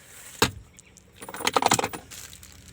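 Two car keys for a Cortez 1.5L Lux CVT 4×2 jangle together, with a sharp metallic clink first, then a longer burst of rattling keys, close and fairly loud.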